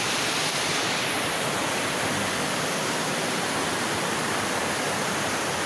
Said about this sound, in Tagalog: Yan ang Estrella Falls.